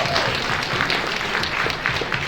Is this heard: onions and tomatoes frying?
no